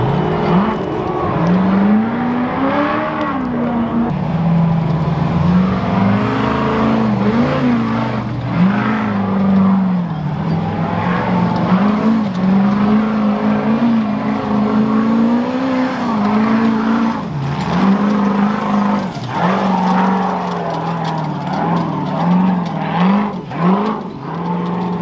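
Off-road trucks climbing a rock trail at King of the Hammers, with loud, sustained engine roar that rises and falls as they rev and crawl over the rocks close by.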